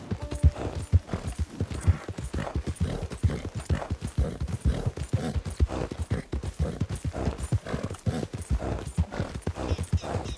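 Horse hooves clip-clop in a brisk, steady rhythm, each hoofbeat crisp and close, continuing without pause, in the video game Red Dead Online.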